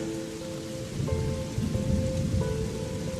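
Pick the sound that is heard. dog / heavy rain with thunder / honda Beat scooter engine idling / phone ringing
heavy rain with thunder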